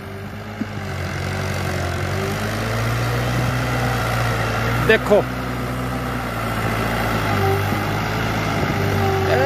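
A New Holland 7500 tractor engine drones steadily and loud while pulling an 8-foot desi land leveller out of a pit, a constant low hum with someone speaking briefly over it.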